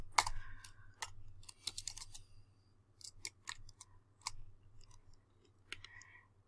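Typing on a computer keyboard, a quiet close series of irregular clicks in short bursts with brief pauses between them.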